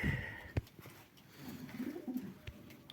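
Dyrkach breed pigeons coo softly in a loft, low rolling murmurs with a few sharp knocks and rustles nearby.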